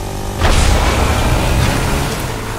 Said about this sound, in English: Yeah, yes, I hear shooting too.